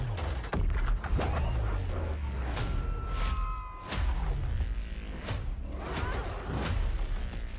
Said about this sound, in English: We sure cause a lot of explosions.